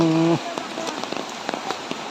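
Rain falls steadily on the ground and pools at Taytay Falls in Majayjay, Laguna, a soft constant patter with scattered drop hits. It follows a brief harmonic tone at the start.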